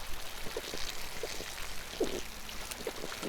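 Gulps of water drunk from a water source in the survival game SCUM, a few soft wet swallows and trickles spaced across a quiet moment, faint and close.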